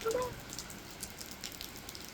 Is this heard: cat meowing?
no